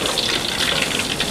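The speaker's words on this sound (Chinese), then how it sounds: "里面放油，开小火，下土豆进行慢慢煎" Potatoes sizzle slowly in oil in a flat frying pan over low heat, giving a steady, close, continuous hiss and crackle with no voices.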